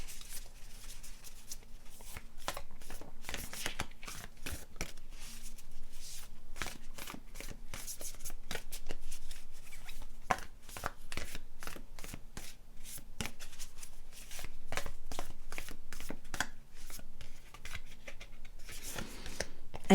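Cards are shuffled repeatedly up close, a steady stream of crisp riffling and flicking bursts with short pauses between rounds.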